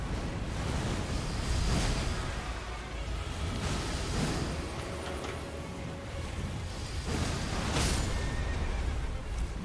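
Several horse whinnies in Elden Ring ring out over a constant windy, surf-like roar, spaced a couple of seconds apart.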